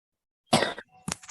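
A person lets out a sharp cough after a moment of silence, then a second, shorter cough follows. The sound is close and fairly loud.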